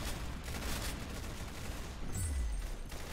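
Continuous rapid gunfire from a gun in the Roblox game Arsenal, a dense, loud burst of shots running for a few seconds with a brief low whoosh near the end.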